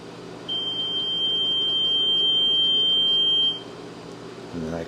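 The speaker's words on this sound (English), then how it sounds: "And the microwave's still going." A 1978 Amana Radarange Touchmatic II RR-10 microwave oven hums steadily while a single long, piercing electronic beep sounds for about three seconds, then stops, leaving the running hum.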